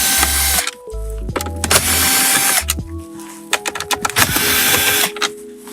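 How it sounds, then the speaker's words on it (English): Power-driver whirring comes in several short bursts, with pauses between them, as three interior trim screws are backed out during a stereo install in a Lexus IS 200t F. The sound is close and loud, mixed with some clicking and handling. "So now we've got these three screws right here that are uncovered, so we'll go ahead and take these out."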